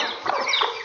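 A golden Misri hen and her chicks make soft, close clucking and chirping in a brief burst.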